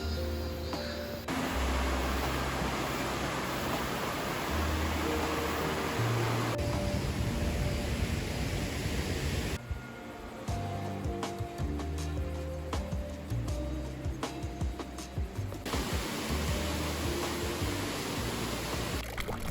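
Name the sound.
waterfall rushing water in Osaka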